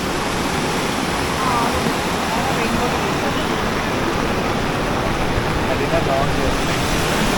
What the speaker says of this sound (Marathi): हा बघा हा आहे आपला रिव्हर्स वॉटरफॉल